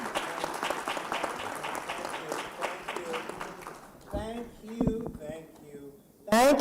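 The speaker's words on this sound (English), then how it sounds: "this round of applause goes not only to the panelists, but also to our moderator" A conference audience at a regional event on special economic zones applauds panelists and a moderator with dense clapping that fades after about four seconds, followed by someone speaking.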